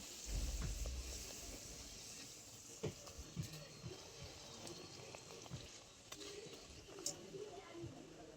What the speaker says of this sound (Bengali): লুচি ভাজার জন্য কড়াইয়ের মধ্যে আমি সাদা তেল আগে থেকেই খুব ভালো করে গরম করে রেখেছিলাম